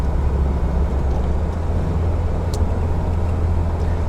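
A 1974 BMW 2002tii with a five-speed gearbox cruises in fourth gear, its steady engine drone and road rumble loud and constant from inside the cabin.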